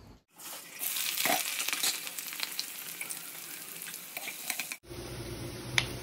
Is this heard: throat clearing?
no